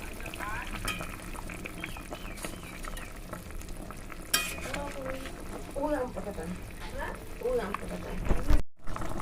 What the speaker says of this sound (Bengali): একটু নাড়িয়ে চাড়িয়ে কিন্তু এটাকে ঢুকিয়ে দেবো, মাছগুলো ঝোলের মধ্যে ডুবিয়ে দেবো।